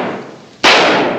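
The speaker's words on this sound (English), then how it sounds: "There's liable to be a lot more shooting." A gunshot rings out in a 1950s western gunfight scene, a single loud, sharp crack that cuts in abruptly after a stretch of low background noise and hangs on briefly.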